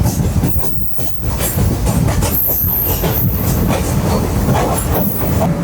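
Matara Express passenger train running, a loud, steady rumble of wheels and carriages with rattling clatter close by, continuous throughout with no voices.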